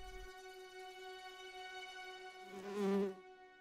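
Insect buzzing, likely a bee, landing on salvia flowers in a British garden: a steady harmonic hum that swells louder near the end as it settles on the blooms, close up with no voices.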